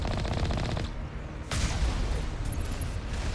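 Heavy turrets in the Mass Effect game fire loud, dense bursts of rapid gunfire, with a brief lull and then another sharp burst of shots, with no talking.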